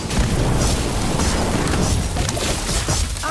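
An Incendio fire spell erupts in Harry Potter Magic Awakened as a loud, dense burst of fiery crackling and booming that fills a few seconds without a pause.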